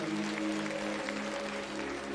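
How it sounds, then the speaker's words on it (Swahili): A church congregation claps for Jesus during worship, a dense, steady patter of many hands mixed with sustained music in the background. "tupigie Yesu makofi mazuri"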